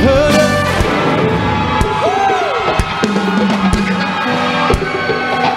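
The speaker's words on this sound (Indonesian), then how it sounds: "Sama-sama tepuk tangan di atas kepala kita." A church congregation at a youth revival service claps hands above their heads, the sharp claps landing about once a second over worship music, singing and crowd cheers.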